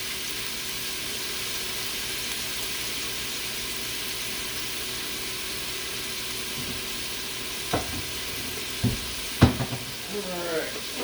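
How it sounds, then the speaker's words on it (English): Pancetta frying in a pan for carbonara gives a steady, even sizzle, with a few sharp clatters of the pan or utensil near the end. "Get a good sizzle going."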